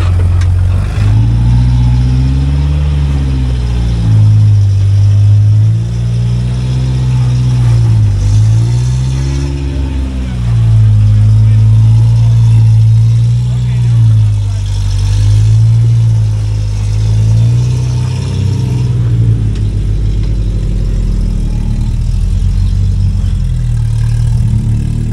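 An off-road buggy with power steering trouble drives an overland trail, its mid-pitched engine loud and close, revving up and down in repeated surges over a continuous drone.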